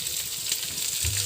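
Chopped onions dropped into hot oil in a pan for a ripe tomato curry, a brief close crackling sizzle that stays steady, with no voices.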